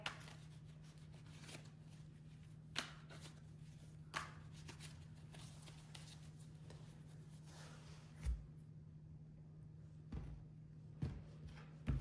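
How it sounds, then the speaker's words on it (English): Soft, quiet shuffling and rubbing of tarot cards repeats in short bursts, with a few light taps and a low background hum. "I am going to shuffle the tarot"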